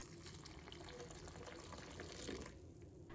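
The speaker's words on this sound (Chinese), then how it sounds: "倒入清水" Clean water runs steadily into a bowl of raw peanuts, a continuous close splashing and trickling fill heard alone for about three seconds.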